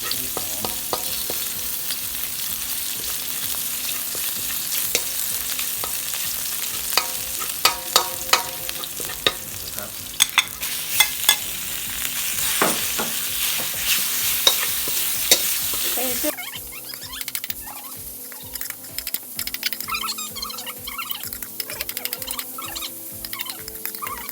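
Fermented bamboo shoot salad stir-fried in a pan, a steady loud sizzle with repeated scraping and clacking of a utensil against the pan, then quieter sizzling with sharp tapping strokes near the end.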